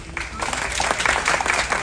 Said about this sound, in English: Give me a clap if that might be some of you.